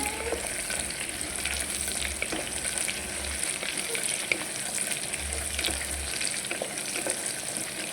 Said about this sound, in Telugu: ఈ జీరా ఫ్లేవర్ అనేది ఆయిల్లో దిగుతుంది అనమాట ఇందులో పచ్చిమిర్చి అండి చేసుకుందాం